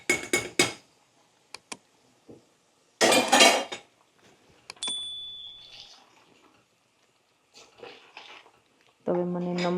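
Metal ladles and pots clink sharply while masala paneer gravy is cooked, with a few quick strikes at the start, another burst of scraping and clanking midway, and scattered lighter taps between quiet pauses.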